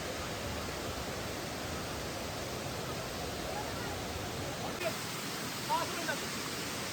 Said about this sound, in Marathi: असा जबरदस्त आवाज येतोय ना पाण्याचा